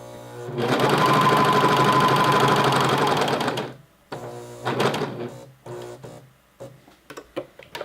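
A sewing machine stitches elastic onto a waistband, running in one loud steady burst for about three seconds, then a few short stop-start runs and clicks up close.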